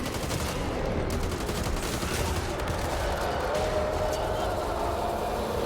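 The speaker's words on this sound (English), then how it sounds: "we'll just have to shoot from a distance" Dense automatic gunfire from the zombie shooter Back 4 Blood, fired at range during a Nightmare-difficulty mission in Act 2, Hinterland; continuous loud rattling bursts layered with game noise and a voice talking underneath.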